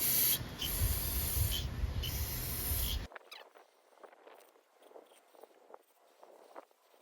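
A spray cleaner blasts the spring area of a Chinese Loncin engine on a Toro Recycler mower, giving a loud close hiss that pulses briefly and stops after about three seconds, followed by faint handling noises.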